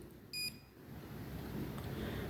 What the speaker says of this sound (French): Vous avez la LED verte qui s'allume et vous avez entendu le bip.